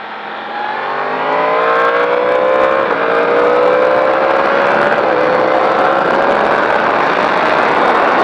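A race car engine accelerates hard out of a chicane at the Magny-Cours circuit, its pitch climbing through a sustained, loud, close roar with a brief dip at a gear change.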